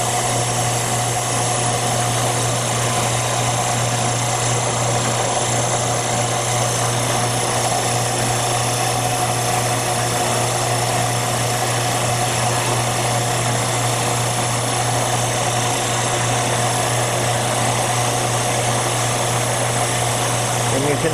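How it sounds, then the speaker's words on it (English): An Amermac 711 tire truer machine shaves the high spots off a tire, producing a continuous, steady, loud mechanical drone with a low hum underneath and no break throughout. "what we're doing is cutting the high spots off the tire."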